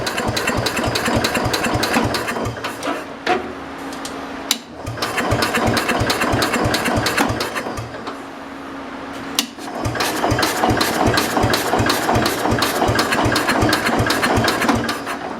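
A small engine just fed with gas runs loud and close with a rapid, even chugging, dropping briefly twice as it falters before picking back up to a steady rough idle.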